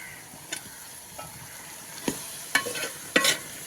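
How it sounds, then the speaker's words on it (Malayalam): Potatoes being stirred in a cooking pot make scattered scrapes and clinks of a spoon against the metal, close by and irregular, with a faint sizzle underneath and no talking. "അതിട്ട് നന്നായിട്ട് ഇളക്കുക"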